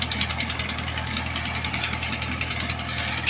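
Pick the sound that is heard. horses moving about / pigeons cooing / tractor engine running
tractor engine running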